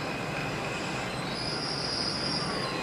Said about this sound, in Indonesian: Ya ini stasiun kereta ya.